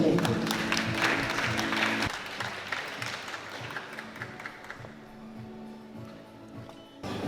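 Applause from a crowd at an Institution St Pierre de Formation graduation ceremony, with a dense patter of clapping that fades slightly over about seven seconds and a low voice or hum underneath.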